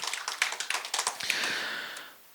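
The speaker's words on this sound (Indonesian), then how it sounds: "Tepuk tangan dulu untuk kita semua yang hadir di sini" An audience at a seminar session claps briefly, a quick flurry of close hand claps that merges into a short wash of applause and then fades out.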